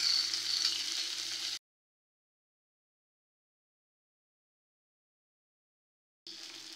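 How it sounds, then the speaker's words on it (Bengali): Chopped onions frying in a pan for a Bengali rui fish dish with radish, beans, potato and bori, a steady close sizzle that cuts out for several seconds and then resumes. "এবারে আমি দিয়ে দেবো কুচিয়ে রাখা পেঁয়াজ।"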